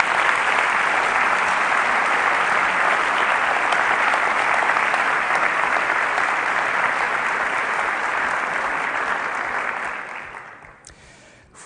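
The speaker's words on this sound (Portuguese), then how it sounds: "Uma salva de palmas também para ele" Sustained applause fills a hall at a Socialist Youth convention, dense and loud clapping from a large audience that holds steady before fading out near the end.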